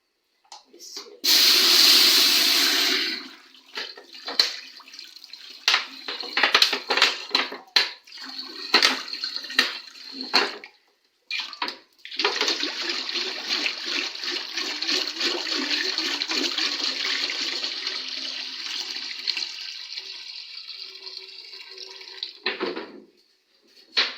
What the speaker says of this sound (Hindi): सबसे पहले हम डालेंगे पानी।